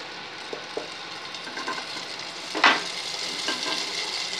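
Raisins are tipped from a pan into sweet kalkandu pongal, giving a soft background sizzle and a few light taps, then one sharper clatter and stirring scrape as they land.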